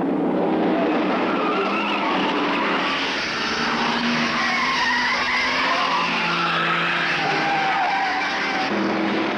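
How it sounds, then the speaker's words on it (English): A Ford Falcon GTHO racing at speed down Conrod Straight at Bathurst during the 1970–71 500-mile race, a loud sustained engine roar mixed with broad crowd-like noise, steady throughout with slight shifts in pitch. "Unleashing its newly developed power, Moffat accelerates the GTHO to something around 140 miles per hour down Conrod."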